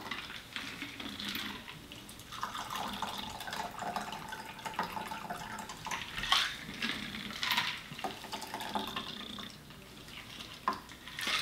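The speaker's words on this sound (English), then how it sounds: "Pour this into the glass." A Thai basil cocktail is strained and poured into a glass, giving a steady close liquid trickle with splashy bursts and small clinks throughout, no talk.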